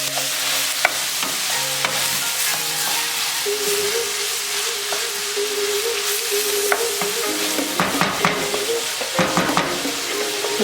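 Vegetables sizzle and fry in a pan while being stirred with multicolored crushed peppercorns, salt and black pepper, a steady close hiss with scraping stir strokes and a few sharper clatters near the end, no talk.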